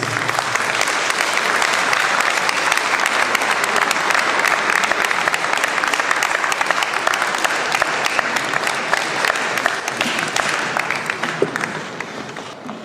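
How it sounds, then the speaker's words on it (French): Audience applause welcoming Madame Agnès Boutin onstage at a show, a sustained, loud burst of crowd clapping that stays full for several seconds before tapering off at the end. "que nous allons accueillir sous vos applaudissements"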